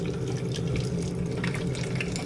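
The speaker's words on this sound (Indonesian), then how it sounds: "Langkah awalnya itu adalah pre-wash dengan air keran cukup." Tap water runs steadily into a film developer tank for a pre-wash, a soft continuous pour and splash with no voices.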